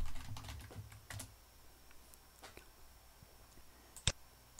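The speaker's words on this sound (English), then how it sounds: "So this time I'm going to type my admin" Faint typing on a computer keyboard, a scattering of soft clicks and taps across a few seconds, ending with one sharper key strike.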